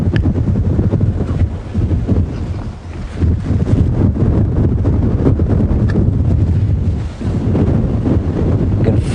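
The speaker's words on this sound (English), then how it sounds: "Feel that wind. Well, you can't feel it, of course, but you can hear it, I'm sure, starting to blow strongly." Strong wind blows across the microphone during an afternoon safari drive at a game reserve, a loud, steady roar that rises and falls in gusts and continues throughout without speech.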